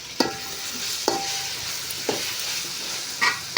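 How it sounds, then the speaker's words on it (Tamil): Tomatoes and onions sautéing in a pan for chicken curry give a steady close sizzle, with a few sharp stirring scrapes about once a second and no talking. "இப்போ தக்காளி போட்டுவோம் நல்லா வதங்கணும்"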